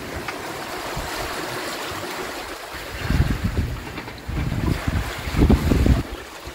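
Steady wind rushing past a sailboat on the open Pacific, with gusts buffeting the microphone and water sloshing against the hull in heavier bursts toward the end.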